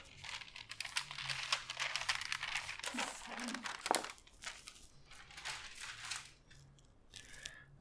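Parchment paper handled while making keto pork rind nachos, close crinkly rustles and crackling bursts, with brief quieter gaps, under speech in places.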